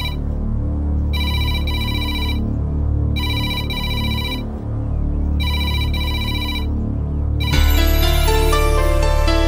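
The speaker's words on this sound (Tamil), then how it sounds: "போன் அடிக்குது இல்ல" A telephone rings close by in a Tamil film scene, with three evenly spaced bursts of a bright electronic trill separated by short gaps. A swell of loud dramatic music follows and covers the ringing, and no one speaks.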